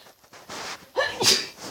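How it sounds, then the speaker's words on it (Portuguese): A single sharp sneeze, close and fairly loud, bursting out after a short intake of breath. "Espirrei, galera, foi mal aí."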